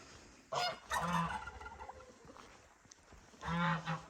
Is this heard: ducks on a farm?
yes